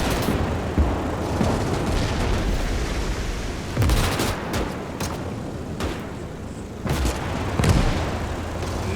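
Gunfire in the multiplayer World War II strategy game Call to Arms: Gates of Hell, with several sharp shots and booms cracking over a dense, continuous battlefield rumble.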